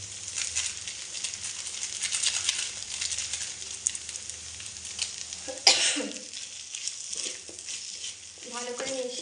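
Veg chowmein tossed with sauce in a pan, a steady sizzle and scraping stir carrying throughout, with a sharp clatter near the middle and a few brief throat-clearing noises toward the end.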